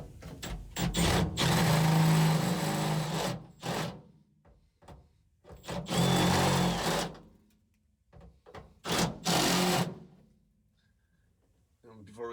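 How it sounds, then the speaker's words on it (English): Step bit drilling through the inner roof panel of a 67-72 Chevy C10 pickup cab, three loud whirring bursts of a few seconds each separated by pauses with quieter clicks and handling noises. "we're going to use a step bit big enough so that it'll drill that hole out without going through the other side"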